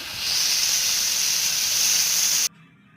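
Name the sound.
turmeric-salted fish frying in hot oil in a wok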